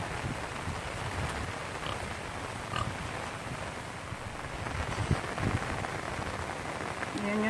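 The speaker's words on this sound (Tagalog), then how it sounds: "Parang nagbaha na sa kalakas ng ulan." Heavy rain pours steadily over flooded rice paddies, a dense, even hiss of drops striking water and ground that holds for the whole stretch, with faint thumps underneath.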